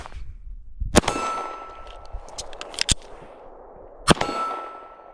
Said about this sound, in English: we're just going to dump this mag, grab the other one, reload, and get another shot up on target